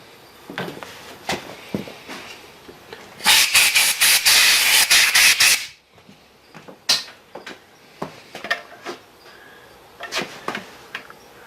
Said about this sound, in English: We're going to raise it up and blow it out.